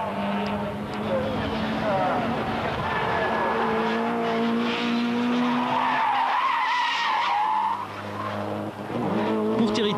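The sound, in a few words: race car skidding as it misses braking at a chicane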